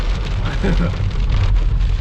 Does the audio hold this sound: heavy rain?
yes